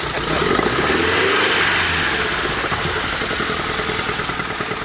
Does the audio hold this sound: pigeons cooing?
no